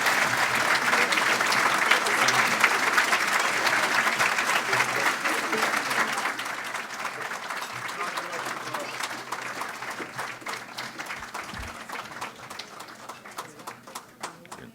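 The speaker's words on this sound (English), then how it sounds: "You can give her another applause, ovation on the way out" Sustained audience applause and ovation for Sarah Palin at the Reagan Ranch Center, loud dense clapping and crowd noise that slowly tapers over fifteen seconds.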